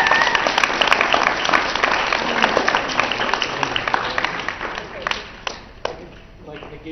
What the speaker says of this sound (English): Would you join me in giving him a round of applause?